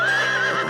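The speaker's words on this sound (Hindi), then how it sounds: "ओए सुल्तान शेख अजीबुद्दीन का घोड़ा था।" A cartoon horse from an Arabian adventure lets out a loud, drawn-out whinny, a wavering high neigh that carries alone for nearly a second.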